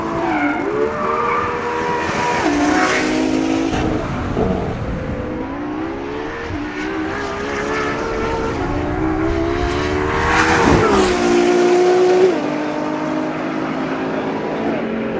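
Ferrari LaFerrari V12 hybrid supercar driving hard at the Fiorano track, engine note rising and falling through gear changes with loud revving and tire squeal, continuous and close throughout.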